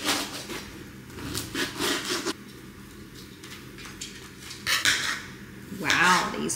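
A kitchen knife slices through salad rolls on a cutting board, giving close scraping cuts and taps in uneven bursts with quieter pauses between them.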